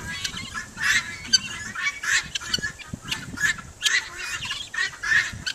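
Geese and chickens in a crowded flock honk and cackle loudly and continuously, with overlapping calls rising and falling close by.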